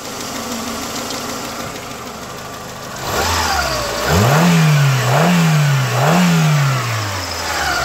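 A rebuilt Peugeot 206 engine with its belt pulley tensioned starts up after a steady hum and runs close and loud, revving in three rhythmic surges before settling into a slightly rough idle.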